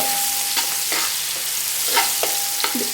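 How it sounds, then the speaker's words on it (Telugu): Onions sizzle in hot oil for biryani, giving a steady loud frying hiss with several scraping stirs of a spatula through the pan. "నూనె హీట్ అయిన తర్వాత మనం తీసుకున్న ఆనియన్స్ని అయితే వేసుకుందామండి వీటిని బ్రౌనిష్ కలర్లో మనం గోల్డెన్ బ్రౌనిష్ కలర్లో ఫ్రై చేసుకోవాలి"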